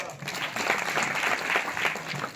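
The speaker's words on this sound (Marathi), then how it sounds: "टाळ्या वाजवा" An audience applauds at a village celebration of Savitribai Phule's birth anniversary, with steady, dense clapping throughout.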